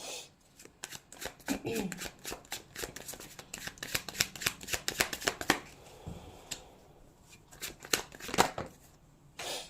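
Tarot cards riffle and snap in a rapid series of crisp shuffles, then slow to a few sharp slaps as cards are drawn and laid down, close by with faint background noise.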